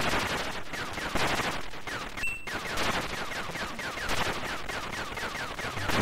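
Streams of retro shoot-'em-up gunfire from a ship in Xenon 2 Megablast on the Atari ST, steady and dense for the whole stretch, with rapid repeating shots layered over a busy game soundtrack.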